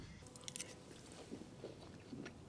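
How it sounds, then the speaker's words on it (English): Reheated, partially cooked potatoes being eaten up close, with soft crunchy bites and moist chewing in a few irregular bursts over quiet background. "So I'm eating my reheated potatoes that were partially cooked last night"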